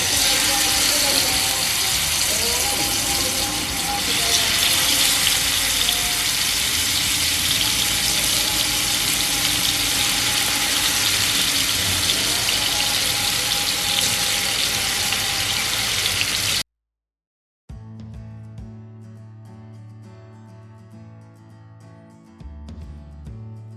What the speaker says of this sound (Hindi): ऑयल गर्म हो चुका है और अब मैं कबाब फ्राई कर लूँगी।